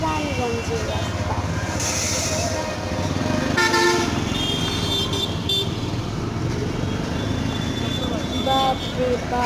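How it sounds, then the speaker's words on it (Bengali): Busy street traffic on a road in Raniganj, with repeated car and motorbike horns honking over a constant engine rumble, loud and close, and voices talking throughout. "এটা হলো আমাদের রানীগঞ্জের রাস্তা।"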